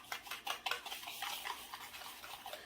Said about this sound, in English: Just whisk it together.